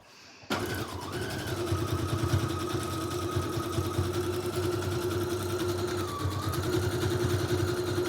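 A sewing machine stitches a collage snippet roll, running steadily and close after starting abruptly, with a continuous whirring hum and slight speed changes throughout.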